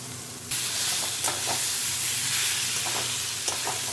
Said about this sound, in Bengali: ছানাগুলোকেও মশলার সাথে কিছুক্ষণ কষিয়ে নেব